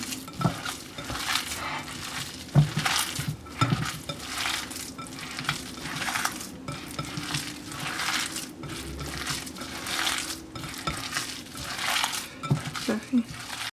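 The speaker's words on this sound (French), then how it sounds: "نخلطها بيدي حسن" Hands kneading and squishing a mashed potato and minced meat mixture in a bowl, repeated wet squelching pats in an uneven rhythm with occasional clinks, close and moderately loud.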